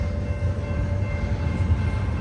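A freight train passes in Lower Sworthout Canyon, a short stretch of steady low rumbling from rolling rail cars, moderately loud and unbroken, with no voices.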